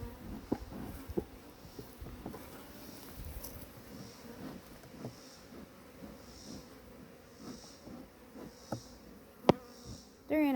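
Agitated honey bees swarm around an opened hive during a beekeeping inspection, making a steady, faint buzzing drone broken by a few soft knocks and bumps.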